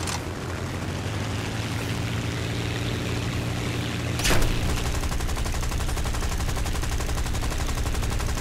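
Dense, loud gunfire in the War Thunder video game, a continuous roaring burst of automatic fire under a steady engine drone, with one brief sharper crack midway and no speech.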